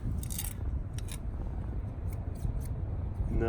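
Sharp metallic clinks ring out several times at irregular intervals against a rough, noisy background, as a rock strikes a pair of metal scissors.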